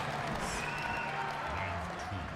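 The crowd at the Evo 2023 Mortal Kombat 11 grand finals cheers and applauds in a constant roar, while a commentator talks over it.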